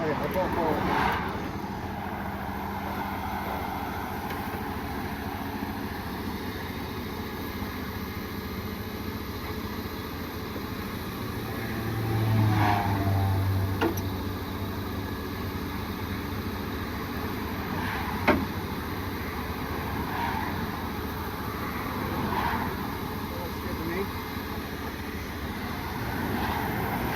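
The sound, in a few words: vehicle engine pulling forward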